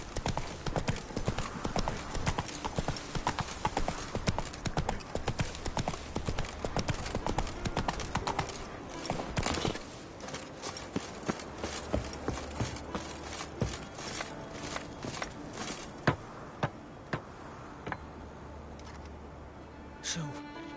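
Galloping hooves of a horse in The Witcher 3 video game, a steady rapid clip-clop running loud throughout, thinning out in the second half, with speech over it.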